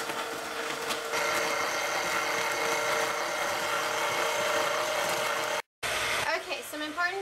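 A loud, continuous motor whir with a grinding edge from a Rival Frozen Delights electric ice cream maker drones on, cuts out abruptly near the end, then a voice is heard faintly.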